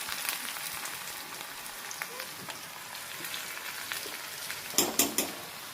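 Curry leaves and dried red chillies fry in hot oil as a tempering for mango pulissery, giving a soft continuous sizzle that ends in a few sharper crackles and pops.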